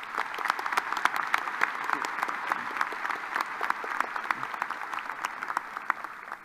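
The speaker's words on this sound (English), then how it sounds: "please recognize with your applause these individuals who represent the university through the governing board who are with us today" A university commencement audience applauding representatives of the governing board, a steady patter of many hands heard from a distance, moderately quiet and unbroken, with crisp individual claps scattered through it.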